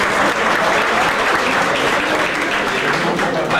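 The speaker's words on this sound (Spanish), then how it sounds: "quien pide un fuerte aplauso" An audience at a labor event in Mexico City gives loud, dense applause that holds steady throughout.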